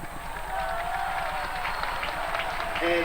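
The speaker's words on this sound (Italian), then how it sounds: "Tanto l'applauso che sentite è rivolto a Bruno Scolari" Crowd applause at an outdoor show jumping event in Rome in 1992, a steady distant wash of clapping with a faint hum underneath and a voice briefly at the end.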